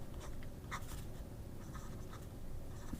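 A Hero 1086 fountain pen writes in a journal, making soft, close scratchy strokes in short bursts with brief pauses, quiet and alone.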